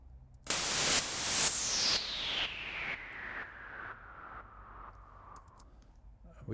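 A white noise sweep riser from music production sounds as a loud hiss burst whose filter falls steadily downward, pulsing in even rhythmic chops and fading over several seconds.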